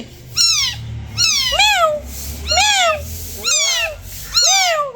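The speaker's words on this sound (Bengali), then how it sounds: "এই ম্যাও ম্যাও করছে রে" Five high, thin kitten meows in a steady series, each a rising-then-falling cry, close by with a low rumble underneath.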